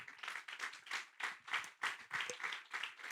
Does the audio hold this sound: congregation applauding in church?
yes